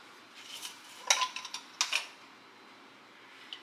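Glass mason jars holding baking powder and baking soda clink together in a quiet kitchen: a few sharp, bright knocks in two quick clusters, then a single soft tap.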